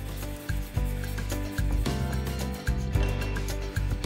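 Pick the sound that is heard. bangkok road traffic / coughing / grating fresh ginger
grating fresh ginger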